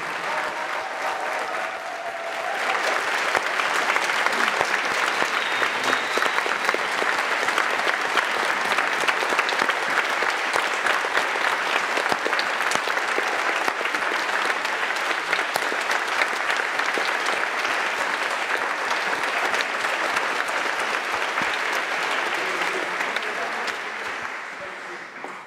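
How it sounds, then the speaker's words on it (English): Sustained applause from a graduation ceremony crowd for the class of 2022, a dense steady clapping that swells in after a quiet start and holds loud and even for about twenty seconds before tapering off. "One final round of applause for the class of 2022."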